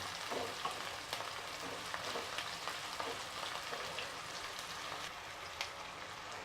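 Slit green chilies fry in a pan for egg thokku, giving a continuous soft sizzling crackle with scattered pops, steady and fairly quiet, with no talking.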